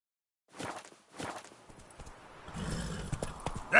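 Geralt's horse Roach moves in The Witcher 3 with a few spaced hoof thuds that build into a denser run of clip-clops, fairly close, ending in a sharp burst.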